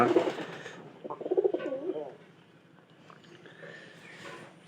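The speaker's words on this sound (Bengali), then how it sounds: "এই কবুতরের বাচ্চাগুলো অবশ্যই দেখা দরকার" Young pigeon chicks coo and murmur in a short burst up close, the soft throaty calls fading into quieter rustling background.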